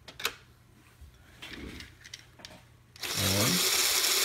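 An electric motor in a LEGO Technic 42077 rally car switches on and whirs steadily with a rising whine, loud and close after a few faint clicks and rustles of handling.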